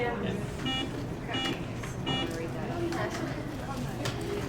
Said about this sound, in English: Buzzer check.